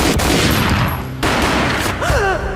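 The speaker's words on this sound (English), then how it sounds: "A gunshot boomed and she fell down in slow motion." Loud, dense gunfire from the Max Payne video game rings out in a rapid fusillade of close shots layered over booming game effects, with no one talking.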